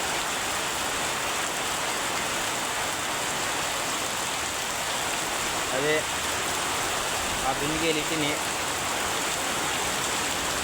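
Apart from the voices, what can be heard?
rain falling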